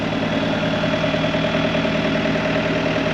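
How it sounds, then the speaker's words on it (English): Diesel tractor engine idling nearby, a steady, unbroken mid-low rumble with a faint knocking pulse and constant loudness throughout. "I can't shut the tractor off because my generator don't work, but it's a diesel"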